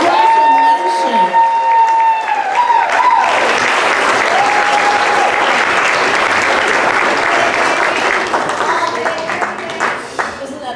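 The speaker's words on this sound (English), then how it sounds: "Applause. Let's hear it. Show some love." Audience applause at the 2025 MAMA Awards, a loud, sustained wash of clapping that swells after a few seconds and holds steady before thinning slightly at the end, with some voices and cheers mixed in.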